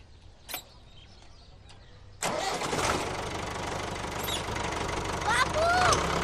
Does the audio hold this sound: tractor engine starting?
yes